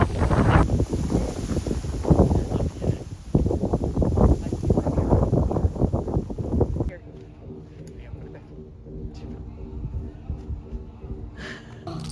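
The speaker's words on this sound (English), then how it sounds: "Oh my gosh, it's windy." Strong wind at a campground in Mesa Verde National Park buffets the microphone in loud, rumbling gusts while people talk, then the roar drops away to a quieter background.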